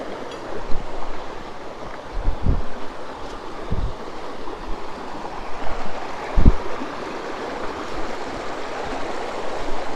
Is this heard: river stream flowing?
yes